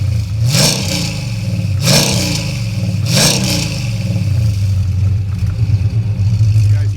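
A 1000hp Dodge Hellcat engine revs hard three times in quick succession through a Stainless Works exhaust, each throaty blip rising and falling, then settles into a loud, rumbling idle.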